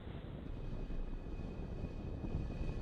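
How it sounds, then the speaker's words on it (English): Falcon 9 rocket lifting off with Starlink satellites, a deep, dense rumbling roar that is heavy in the low end and holds steady and loud, with no voices. "And liftoff of the Falcon 9 and Starlink"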